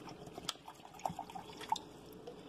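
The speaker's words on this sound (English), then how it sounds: "so I'm going to pour a little bit more." More purified water is added to a variable-temperature tea kettle: soft dripping and small splashes with a few brighter plinks, heard close and fairly quiet.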